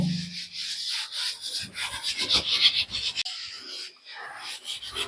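A household water tap is scrubbed by hand, giving harsh rasping, rubbing strokes up close in uneven bursts, with no speech.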